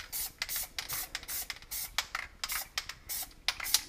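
A spray paint can hisses in short repeated bursts while painting a lunar landscape, close and fairly quiet, with brief gaps between sprays and no talking.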